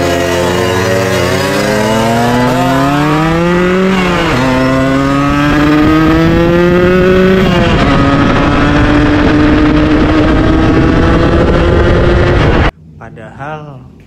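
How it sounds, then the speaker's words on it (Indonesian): A Yamaha RX King two-stroke motorcycle revving hard at high RPM, its engine stuttering and sputtering with rising, wavering pitch, loud and close for about twelve seconds before cutting off abruptly. "Motor ini tersendat-sendat di RPM tinggi dalam posisi jalan aja."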